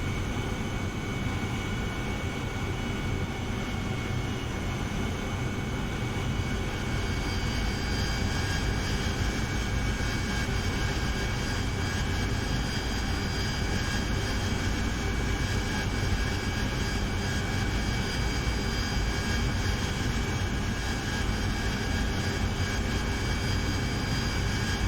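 Jet aircraft engine roaring continuously in the DCS flight simulator as the jet hovers and descends toward a landing pad, a loud, steady, unbroken whine and rumble with no talking.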